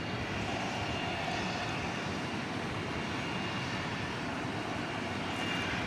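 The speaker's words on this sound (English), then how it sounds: "It's an Airbus A319." Airbus A319 airliner at DFW Airport at night, a faint, steady broadband engine rush that stays constant throughout, distant and alone with no voices.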